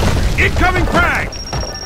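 A frag grenade explodes in Gears of War 2: a short burst of game battle noise with a dull boom, heard under a voiced game line and followed by a thin high electronic tone.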